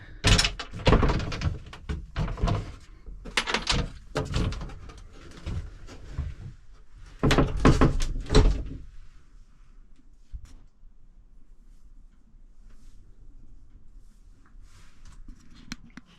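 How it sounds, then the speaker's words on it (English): Cabin door of an O'Day 28 sailboat being closed, a series of loud thunks and knocks in the first half, followed by quiet boat ambience. "There's the door closed."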